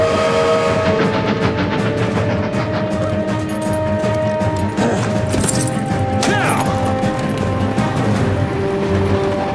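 A moving train in a superhero TV action scene rumbles with a dense, continuous mechanical roar, loud and close, with screeching metallic tones and a sharp squeal rising midway through.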